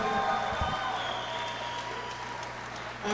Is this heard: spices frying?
no